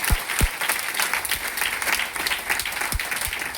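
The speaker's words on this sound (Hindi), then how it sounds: "जोरदार ताली होना चाहिए, 200 प्लस।" Loud, steady applause from a seated audience at a DXN business meeting in Patna, continuous clapping filling the whole stretch with a few sharper, closer claps standing out.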